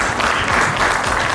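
Applause from an audience at a Zemen Bank event in a hotel hall in Adama fills the room, a dense steady patter of many hands clapping throughout with no voices on top.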